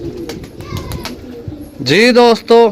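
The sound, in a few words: pigeons cooing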